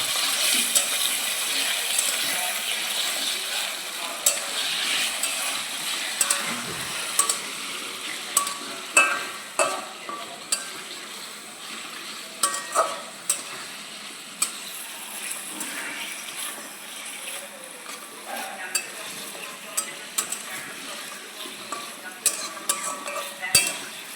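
Chicken paste frying in a pan for a chicken stew, a soft sizzle under repeated scraping and knocking of a spoon against the pan, irregular stirring strokes close by, no voices.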